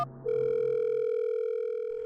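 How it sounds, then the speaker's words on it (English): A telephone handset gives a short tone and then a steady, sustained dial tone, clear and close with no voices. "She picked up their black and silver phone and dialed 3 numbers."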